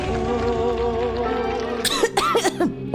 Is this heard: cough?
yes